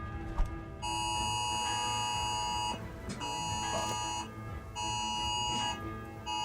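An alarm bell rings in the medieval role-playing game Kingdom Come: Deliverance, a loud, steady electronic-sounding tone that sounds in long bursts with short breaks, over a low murmur of background noise.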